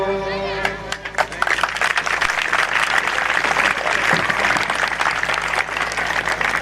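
A live audience applauds after an emotional Pashto song, with dense, sustained clapping that stays fairly loud from start to finish.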